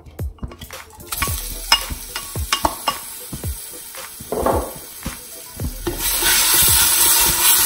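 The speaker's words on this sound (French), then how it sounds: "Ensuite, je viens mettre mes oignons." Onions sizzle in olive oil in a pan for Moroccan harira soup, with repeated scraping stirs throughout and the frying hiss growing louder and steadier toward the end.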